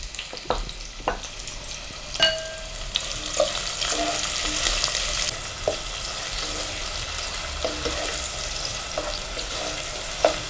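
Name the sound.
chopped onions frying in hot oil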